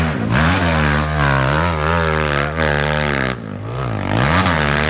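Trail motorcycle climbing a steep hill at Coban Asmoro, Malang, its engine revving hard and loud close by with wavering pitch, briefly easing off before surging again.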